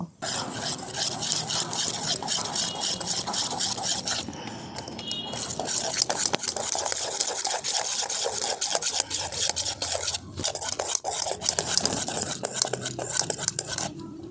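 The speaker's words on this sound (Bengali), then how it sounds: "এই দেখুন খুব ভালো করে এটাকে আমি মিশিয়ে নিয়েছি।" Semolina batter for steamed sujir bhapa pitha being mixed in a bowl with baking powder and soda, heard as continuous close scraping and clinking of a spoon against the bowl with rapid rhythmic strokes and no voices.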